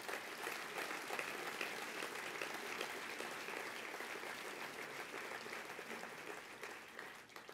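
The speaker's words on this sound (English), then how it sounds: "Round of applause for our sponsors." Sustained applause from a gala audience thanking event sponsors, a dense, steady wash of clapping across the whole stretch that eases slightly toward the end.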